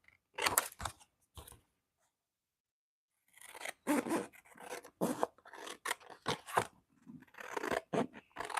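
Scissors snip through folded card stock for a handmade lavender and taupe 3D greeting card, a series of crisp close cuts and paper rustles, with a short pause after the first few snips.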